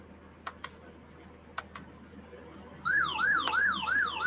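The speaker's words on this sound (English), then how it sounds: "my lightning detector's just gone off, which is the sound of that alarm" A lightning detector alarm sounds during a storm: after a few faint clicks, a loud electronic warbling tone starts abruptly and repeats in a steady rising-and-falling cycle until the end.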